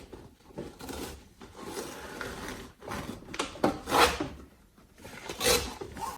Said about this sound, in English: So for this, I'm just going to rip it slowly.